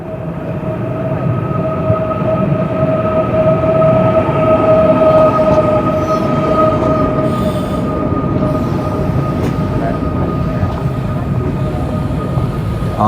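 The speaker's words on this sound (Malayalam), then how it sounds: "ട്രെയിൻ വരുന്നുണ്ട്, ഇതായിരിക്കും" A high-speed bullet train bound for Tashkent pulls into the platform with a loud, steady rumble. Sustained wheel-squeal tones run through the whole approach.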